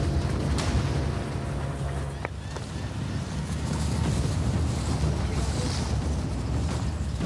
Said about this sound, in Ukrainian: Через невелику глибину водойми та сильний вітер здіймаються великі хвилі